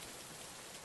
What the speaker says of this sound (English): The rain has cooled off the surrounding area as we descend the steps made of dark slate and cobblestone.